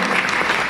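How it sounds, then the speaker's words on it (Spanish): A brief burst of loud, dense clapping from an audience, sustained evenly across the moment. "Un aplauso al primer participante."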